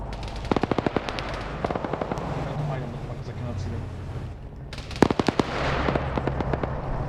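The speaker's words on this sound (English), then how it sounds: "You have an autocannon! Use the autocannon!" An autocannon fires in a video game in quick bursts of sharp, rapid reports, with a short rhythmic burst early, scattered shots, and a heavier volley toward the end, all over a low engine rumble while people talk over it.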